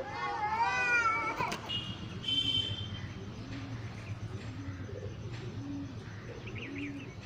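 Soft, low pigeon coos repeat in a steady rhythm over a busy background, with a few brighter bird chirps early on.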